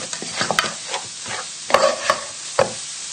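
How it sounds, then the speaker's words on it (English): Crushed potatoes are stirred with extra virgin olive oil in a pan, giving soft scraping and clacking strokes with a few sharper knocks, moderately close, with no one talking. "And then just stir it together"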